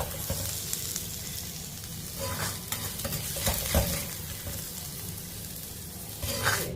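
Food sizzles in a hot pan while a utensil stirs and scrapes intermittently, a steady crackling hiss with occasional louder scrapes.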